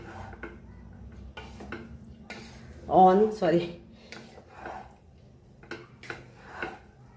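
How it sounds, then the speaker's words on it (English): Goan fried rice being stirred and fried in a pan, with scattered metal spoon scrapes and clinks against the pan, soft sizzling underneath, and a person talking over it. "So now I'm frying along with the rice."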